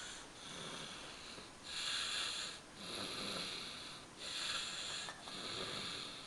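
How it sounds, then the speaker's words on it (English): A baby snoring softly nearby in slow, regular breaths, each rasping inhale rising and fading in a gentle repeating rhythm over quiet room noise. "He's snoring."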